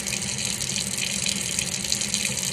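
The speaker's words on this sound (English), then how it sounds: "you turn off the faucet with that paper towel" A sink faucet runs steadily in a health care handwashing setting, a close, even gush of water with no speech.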